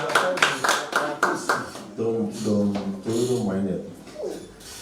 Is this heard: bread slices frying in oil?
no